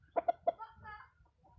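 An 11-month-old young rooster, a bullstag, gives three quick, close clucks followed by a softer, drawn-out murmuring call in a quiet setting.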